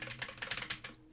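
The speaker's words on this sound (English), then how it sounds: "So what you hear now is me tapping on the keyboard." Quick light taps on a computer keyboard, around a dozen soft clicks in an uneven burst lasting about a second, close and quiet with no talk.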